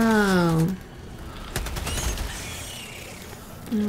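Machine gun fire in the co-op shooter Helldivers 2 on PS5: a rapid, sustained burst of shots rattles for about two seconds, with a voice talking just before and after.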